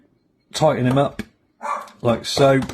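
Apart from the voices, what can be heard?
dog barking in the background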